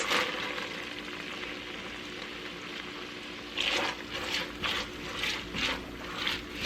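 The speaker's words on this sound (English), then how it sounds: "we're gonna add about 2 tablespoons of oil. Let's add in our onions." Onions fry in about two tablespoons of oil and bacon grease, a steady hiss running throughout that swells into louder, wetter crackling bursts in the second half, with no talking.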